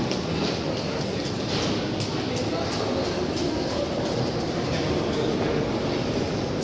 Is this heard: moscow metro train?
yes